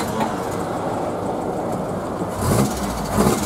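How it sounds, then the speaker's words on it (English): An old Ford Cortina's engine cranks and catches, a steady mechanical rumble swelling louder near the end as it fires up. "Let me start it for you"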